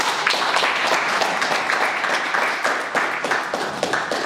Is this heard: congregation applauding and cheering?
yes